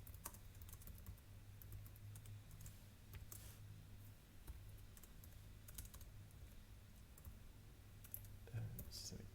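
Faint, irregular keyboard clicks from someone typing on a computer during a programming class, scattered over a steady low hum, with no speech.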